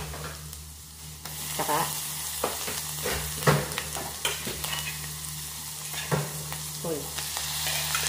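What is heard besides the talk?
chopped mushrooms frying with browned garlic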